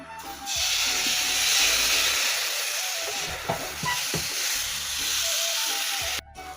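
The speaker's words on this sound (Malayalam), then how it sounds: "അപ്പോൾ നമ്മൾ മാവ് ഇങ്ങനെ ഒഴിച്ചു കൊടുത്തു. അരച്ച് വെച്ചിരിക്കുന്ന മാവ് ഇങ്ങനെ ഒഴിച്ചു കൊടുത്തു." Thin neer dosa rice batter hits a hot pan and sizzles loudly and continuously for several seconds, a close, steady frying hiss with faint clinks before it cuts off near the end.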